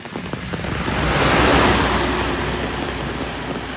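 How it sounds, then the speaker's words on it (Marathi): Heavy monsoon rain at Ozarade waterfall, a loud broad roar of rushing water that swells toward the middle and then eases slightly, steady and unbroken, with no voices. "टॉप पाऊस पडतो टॉप."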